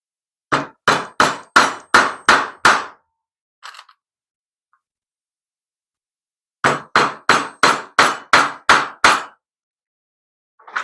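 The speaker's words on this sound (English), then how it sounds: "Need to drive some nails." Hammer driving nails into wood on a workbench: two bursts of about seven sharp, evenly spaced blows each, with a pause between them, loud and close, no talking.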